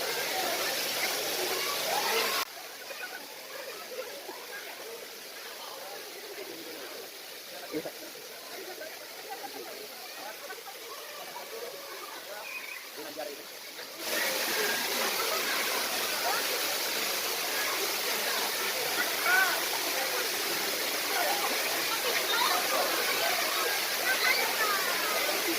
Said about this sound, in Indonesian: kita mau nyobain air terjun Jelundung.